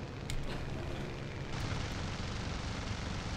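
Bombs dropped from a He-111 bomber explode in War Thunder as a deep, rolling rumble with a few sharper bursts, blending into the steady drone of the aircraft.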